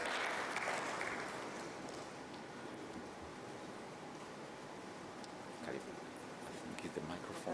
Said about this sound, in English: A round of applause to our moderator.